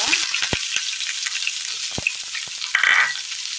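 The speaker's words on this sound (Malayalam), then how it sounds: "കടുക് പൊട്ടിയതിന് ശേഷം ഇതിലേക്ക് സബോള ഇട്ട് കൊടുക്കാം." Sliced onions hit hot oil with spluttered mustard seeds and fry with a bright steady sizzle, punctuated by a few sharp pops and spatula scrapes, close up.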